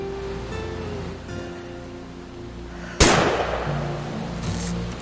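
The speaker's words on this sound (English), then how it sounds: "Great shot, Dawn!" A single sharp gunshot fired in the video game What Remains of Edith Finch, a loud sudden crack that rings out and fades over a steady low ambient background with no talking.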